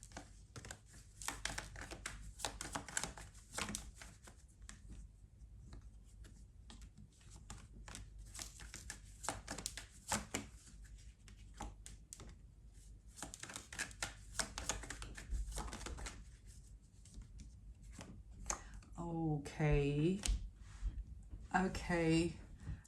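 Tarot cards shuffled and riffled in quick bursts of papery flutters, close up and repeated, with a voice talking quietly in between.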